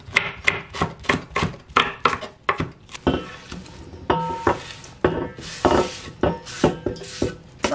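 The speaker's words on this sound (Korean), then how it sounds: "먹기 좋게 썰어줍니다" Knife chopping garlic chives (buchu) on a cutting board for Korean chive pancakes, a quick run of crisp even chops, then slightly irregular cuts with soft board scrapes, close and alone without speech.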